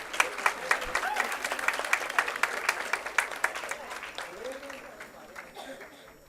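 Audience applause at a BNCA Pune graduation-style name reading, many hands clapping in a steady, dense patter that swells then gradually thins out over several seconds, with faint voices murmuring underneath.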